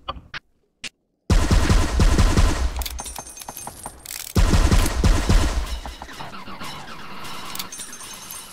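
Rapid automatic gunfire in Second Life SLMC combat rattles in dense bursts after a few isolated sharp shots, loud and close, with a brief pause before a second heavy volley that tapers into scattered cracks.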